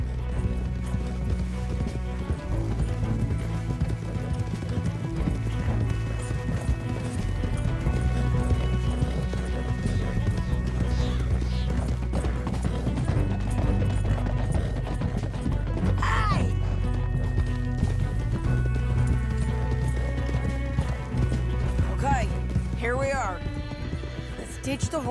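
Horses gallop in the video game Red Dead Redemption 2, with rapid hoofbeats and occasional neighs amid game-like action sounds, while voices speak over the commotion.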